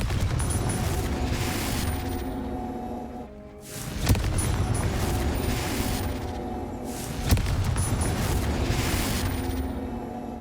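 Confringo blasting spell detonating in the video game Hogwarts Legacy: a couple of sharp booming blasts with rumbling, roaring spell effects under a continuous, dense noisy game soundscape.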